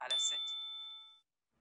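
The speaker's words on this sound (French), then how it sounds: "Quand tu entends la cloche," A single bright bell chime rings out in a children's story reading app, a sharp strike followed by a clean ringing tone that decays over about a second before silence.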